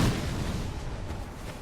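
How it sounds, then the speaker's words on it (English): A bomb explosion in a video game, a loud, broad rumbling blast that swells at once and slowly decays over under two seconds, heard without speech. "There's a guy up there throwing bombs."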